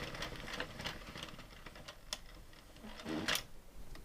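An Addi knitting machine cranked around while knitting an I-cord with yarn, giving a soft rapid clicking and rattling of needles that keeps up throughout, quiet and close, with no voice.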